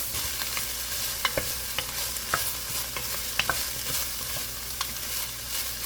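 Onion, mushrooms and garlic sauté in a pot for elk stew, a steady close sizzle punctuated by several sharp spoon clicks and stirring scrapes against the pot.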